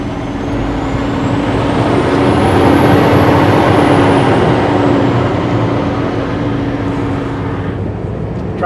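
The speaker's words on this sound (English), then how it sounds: "Truck is so loud with the fan on." A loud, constant roar of a semi truck engine with a rushing engine-fan drone, steady throughout, with a faint rising and falling whine overhead.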